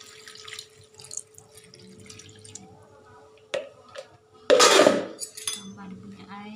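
Water poured into a cooking pot of lopis, glutinous rice cakes, in a home kitchen, heard as a loud splashing gush lasting about a second after quieter clinks and handling noises.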